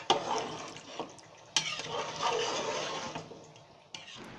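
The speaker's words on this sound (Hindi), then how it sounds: "थोड़ा थोड़ा डाल देंगे और इसको ऐसे हिला देंगे, ताकि ये साथ ही पक जाएगा हमारा" A spoon stirring flour mixture into simmering paya curry gravy in a pot, with wet swishing and bubbling, a few sharp scrapes and knocks against the pan, and no talking.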